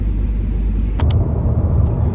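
Inside a moving car, a low steady road and engine rumble fills the cabin, broken by a couple of quick sharp clicks partway through, with no voices.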